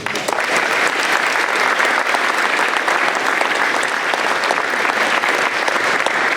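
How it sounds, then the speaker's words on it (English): An audience gives sustained, dense applause for school staff and teachers at an awards night, loud and steady throughout with no break. "big round of applause for our staff and teachers for all the work that they put in for our kids"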